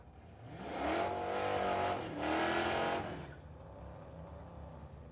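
A Mustang drag racing car at the track, its engine roaring loudly in two close, sustained revving bursts before fading into distant crowd and track noise.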